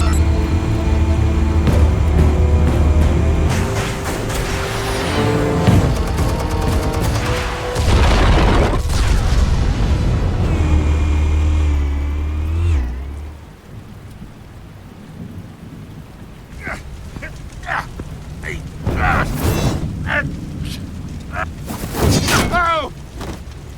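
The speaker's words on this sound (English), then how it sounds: "Explosives armed. Fire when ready." Explosives detonate in Batman: The Telltale Series, a loud, sustained rumbling blast that roars for about twelve seconds before dropping away, followed by scattered debris crackles and a few sharp bangs while a voice speaks.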